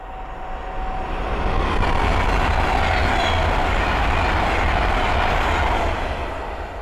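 A Class 390 Pendolino electric train rushes past on a main line, a broad, loud roar that swells and holds for several seconds before easing slightly, heard alone.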